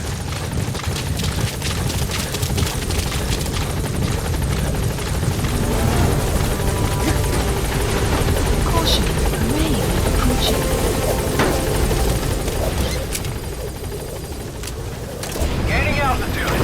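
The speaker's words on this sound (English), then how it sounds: "Support helicopter has arrived." Pequod, the support helicopter in Metal Gear Solid V, hovers close with a loud, continuous rotor roar and engine rumble through the stretch, while a radio voice speaks over it and scattered bangs sound in the background.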